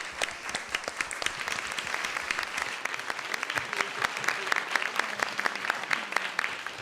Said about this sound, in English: we can save the applause to the end